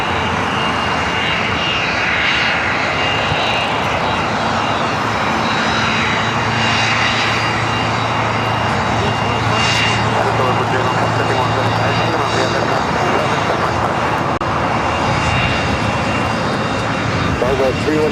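Corporate jet aircraft at LAX, a steady broadband roar of jet engines rolling on continuously for the whole stretch, loud and close, with a voice talking over it.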